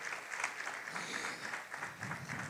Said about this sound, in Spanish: un aplauso a mi papá que está allá